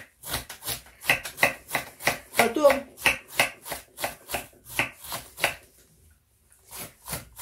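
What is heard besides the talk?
knife cutting cabbage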